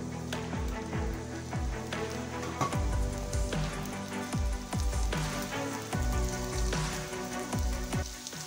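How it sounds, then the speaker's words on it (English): Food sautéing in a pan gives a steady sizzle with scattered pops and crackles, with a few louder spitting bursts, moderately close and with no talking. "I'm gonna saute these until they're pretty tender"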